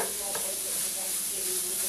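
Ground meat browns in a hot pan, broken up as it cooks, for a Pennsylvania Railroad dining car recipe; a steady, close sizzle with stirring scrapes runs throughout, with no talking.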